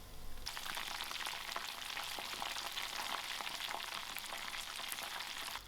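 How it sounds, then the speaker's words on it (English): Crumbed mushrooms fry in a pan with a dense, continuous crackling sizzle, close and steady throughout, with no talk. "I'm going to allow this to fry till it's golden brown"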